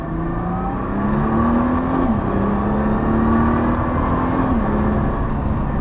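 A Nissan GT-R powers out of a corner at the Dreux circuit, its engine note loud and close, climbing steadily through the revs with brief dips at the gear changes.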